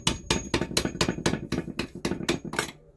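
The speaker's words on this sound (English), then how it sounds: "I know you've got to bang the slag off it, haven't you? Now let me get a knock-on it." A chip hammer knocks slag off a fresh arc weld, about ten sharp, ringing metallic strikes in a quick, even rhythm, loud and close, then stopping.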